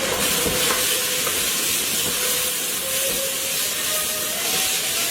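Onions and two diced tomatoes frying in a pan for beef samosa filling, a continuous close sizzle and hiss with scraping stirring strokes running through it, loud and steady without speech.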